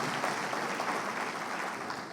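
A church congregation claps during a worship service, a short burst of steady, moderately loud applause with no talking over it.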